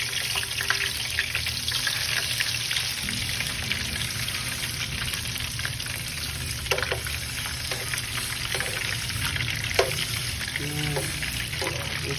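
Butter sizzling in a pan while a stuffed pork chop fries, a steady crackling hiss over a low hum, with a few scattered clinks and scrapes.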